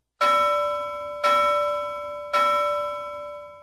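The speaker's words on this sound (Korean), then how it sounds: "도로시가 종으로 울렸고 낭낭한 종소리가 울려 퍼졌다." A bell beside a large emerald-studded gate is struck three times at even intervals, each clear, bright ring sounding close and loud before slowly fading, with no talking.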